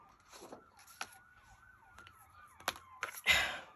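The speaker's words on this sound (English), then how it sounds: "So sirens go one way, they come back the other way." An ambulance siren wails from a nearby hospital, a faint rising and falling electronic tone drifting in the distance, while closer rustling, thumps and a sigh-like breath break in over it.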